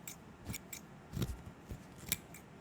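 Klein Tools 2100-7 electrician scissors snipping through plastic, a series of sharp, close crisp cuts spaced irregularly, each a quick dry snap, heard alone in a quiet room.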